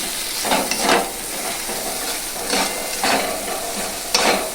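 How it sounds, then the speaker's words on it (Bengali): Spices for a tangra fish jhalda with eggplant are stirred in sizzling oil in a pan, steady frying hiss broken by several scraping stirs at irregular intervals, close and fairly loud. "ভালো করে নাড়াচাড়া করে নেব।"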